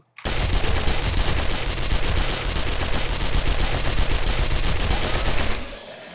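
Rapid, sustained automatic gunfire from a weapon and turrets in the video game 7 Days to Die, loud and continuous for about five seconds before cutting off abruptly.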